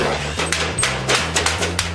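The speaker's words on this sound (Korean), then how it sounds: "수백 번 반복되는 망치질" Hammer tapping to fit aluminum house frame parts together during assembly, a steady series of sharp metallic knocks at an irregular quick rhythm, close, over a low steady background tone.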